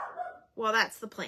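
A pet dog barks and yips close by indoors, short sharp barks overlapping a person talking.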